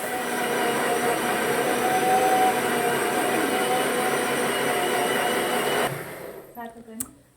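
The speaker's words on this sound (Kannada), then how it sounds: "ನಮ್ಮ ಮೇಡಮ್ ಅವರು ಗ್ರೈಂಡ್ ಮಾಡ್ತಾ ಇದ್ರು ಇದನ್ನ" A kitchen mixer grinds a fried cashew gravy mixture for paneer masala into a smooth paste, a loud steady whirring drone that runs continuously for about six seconds before cutting off abruptly, leaving a few faint clinks.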